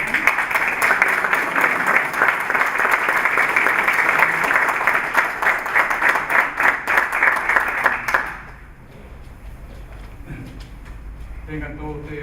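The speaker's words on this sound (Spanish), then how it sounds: "pido un cariñoso aplauso para Jorge Bernal" Audience applauding a speaker at a cultural conference: dense, sustained clapping for about eight seconds, then fading to quiet room murmur.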